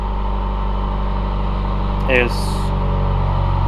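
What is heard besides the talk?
2019 Subaru WRX exhaust with Nameless 4-inch muffler deletes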